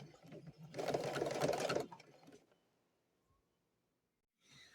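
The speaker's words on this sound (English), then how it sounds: "we have sewn the crosses or the X's in every one of our quilt sandwich pieces" A sewing machine stitches X patterns through quilt sandwich pieces in a short, steady whirring burst of about a second, then falls silent in a quiet room.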